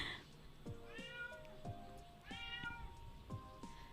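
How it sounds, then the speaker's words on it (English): Indoor cats meowing during a quiet drawing stream, three drawn-out meows with rising and falling pitch, spaced about a second apart, soft and somewhat distant with no talking over them. "I know they're always meowing in the background."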